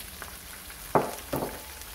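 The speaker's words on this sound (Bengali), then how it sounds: "গরম তেলের মধ্যে এগুলো আমি দিয়ে দিলাম।" Large-cut onions drop into hot oil, giving two short bursts of sizzle over a faint background hiss, close by and moderate in level.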